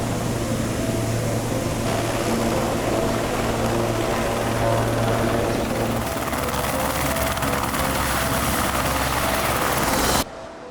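Helicopter flying close at a Christmas celebration in a warm, 30-degree setting, a steady loud rotor and engine drone running without a break for about ten seconds before cutting off abruptly.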